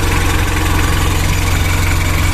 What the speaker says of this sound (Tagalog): Malamig pa yung makina.